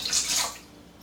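Water is poured into breakfast batter ingredients in a short, close splashing gush that fades within about half a second.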